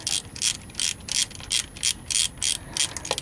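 Ratchet with a 10 millimeter socket turning transmission pan bolts on a 2006 Ford F-150, close, crisp clicking bursts in a regular back-and-forth rhythm, about nine strokes.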